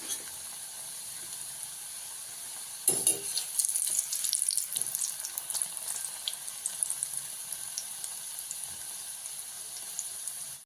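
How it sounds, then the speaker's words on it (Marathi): Slices of bhakarwadi, a spiced rolled snack, deep-frying in hot oil: a quiet hiss that swells into a bright, steady crackling sizzle as pieces go in, continuing close by with no speech. "भाकरवडी तळून घेऊया"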